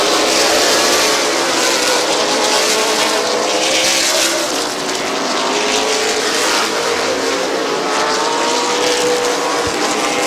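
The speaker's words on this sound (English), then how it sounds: "Five laps to go for Tony Urdiles. Albert Francis around the outside of Ambrose for third" Race cars circling a speedway oval during a fall classic race, a loud continuous roar of several engines blending together at high revs, steady and unbroken.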